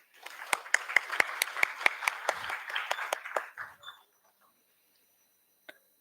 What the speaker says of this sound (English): Can we have a round of applause for everyone?